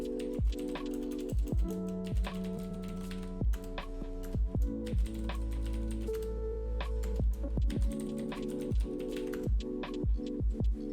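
Computer keyboard typing during a Windows Active Directory setup session, a steady run of close, crisp keystrokes in bursts over a constant low hum, with no talk.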